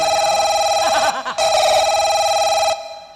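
A mobile phone rings with a steady electronic ringtone that stays loud and close. It pauses briefly, resumes, then cuts off near the end.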